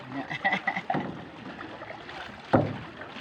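Paddle strokes dip and splash in the water nearby, with wind across the microphone and a faint voice in the background.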